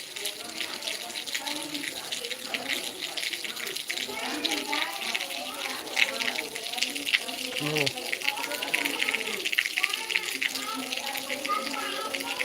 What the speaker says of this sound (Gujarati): વરસાદ ચાલુ છે અત્યારે ધીમો ધીમો ધીમો ધીમો